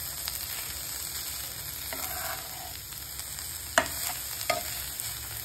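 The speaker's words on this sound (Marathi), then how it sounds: "छान परतायची" Okra sautéing in a pan, a continuous soft sizzle of frying with a few distinct scrapes and clinks of a stirring utensil against the pan, no voices.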